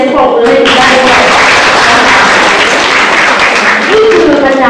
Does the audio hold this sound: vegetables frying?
no